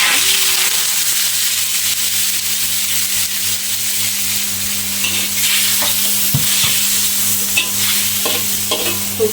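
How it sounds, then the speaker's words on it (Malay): Squid fries in a pan: a steady, loud sizzle fills the whole stretch, with occasional scraping and stirring knocks and no voices. "Kita nak goreng dulu sotong ni."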